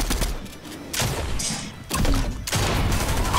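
Gunfire and launcher blasts in the video game Fortnite: bursts of rapid shots and heavy thumping impacts in several loud clusters, separated by brief lulls, with no talk over them.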